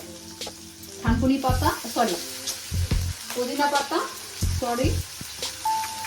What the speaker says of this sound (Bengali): দেখুন সব ফ্রাই করছি একসাথে